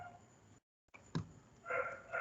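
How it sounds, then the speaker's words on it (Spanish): Dog barking nearby during a biochemistry talk, a couple of short muffled barks after a brief dropout, followed by a louder burst of sound, with no speech. "Porque el perro está ladrando."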